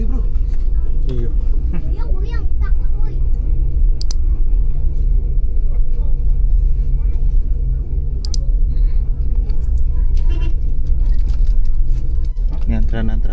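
A Damri bus rolls past in a slow traffic queue near the Ketapang–Gilimanuk ferry crossing, a loud low engine rumble heard from inside a car with scattered clicks, while people talk over it.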